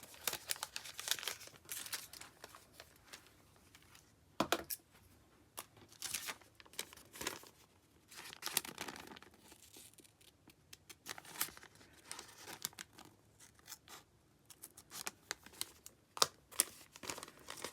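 Paper for an accordion envelope junk journal is cut and handled close by, with repeated crinkling, rustling and snipping in irregular bursts over many seconds and no talk.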